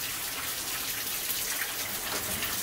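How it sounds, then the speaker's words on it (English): Water trickling out of a hole behind a sheet of metal at an abandoned gold mine, a steady close splashing hiss with no voices. "The water's just coming out of a hole behind this sheet of metal here."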